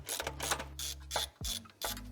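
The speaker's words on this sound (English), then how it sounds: "Time to tighten up the bolts and nuts for our turbo downpipe here." A hand ratchet clicks in short bursts while bolts and nuts are tightened on the turbo downpipe of a Subaru STI, with brief pauses between the sets of close, sharp pawl clicks.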